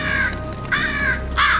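Crows cawing as an audio drama sound effect: three harsh, drawn-out caws in steady succession, close and loud over a low crackling background.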